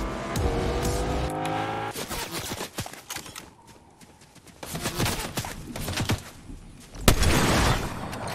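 A car in Fortnite driving off, with a close engine that revs and roars alongside bursts of tire noise and clattering impacts, loud and busy, with no talking.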